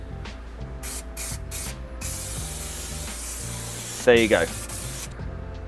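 Spray adhesive hisses from a can onto carpet lining inside a van conversion, sounding in steady close bursts with a louder sharp spurt near the end, while people talk briefly over it.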